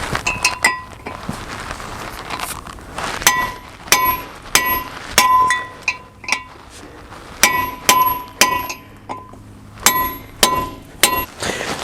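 Sharp metallic chisel strikes ring out on a 2003 GMC 2500HD truck during restoration, a dozen or so loud clanging hits in irregular bursts, close by and without talk.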